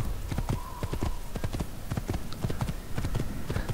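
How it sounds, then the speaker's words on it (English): A horse gallops in Assassin's Creed, rapid rhythmic hoofbeats clip-clopping steadily and close by across the whole stretch, with a brief faint whinny. "Let's get on a horse. And it sprints."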